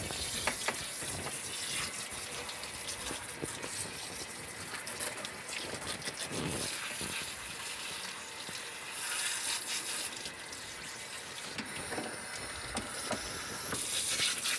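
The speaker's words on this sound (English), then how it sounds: "Now I'm going to rinse her coat." Running water from a hand shower splashes and gushes steadily onto a Maltese dog's wet coat during a rinse, continuous and close for the whole stretch.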